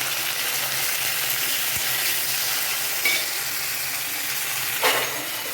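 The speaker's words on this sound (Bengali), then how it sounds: "আর এই যে উচ্ছে ভাজাটা বসাচ্ছি।" Bitter gourd fries in a wok with a constant close hiss of hot oil, a couple of small stirring clinks breaking through the steady sizzle.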